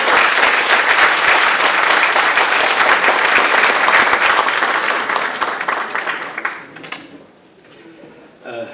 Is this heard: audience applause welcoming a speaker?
yes